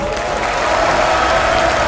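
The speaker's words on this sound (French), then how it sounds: "est-ce qu'on peut les applaudir encore?" An audience applauds a team at the end of a final, with steady, dense clapping and a crowd noise that fills the whole moment at an even level.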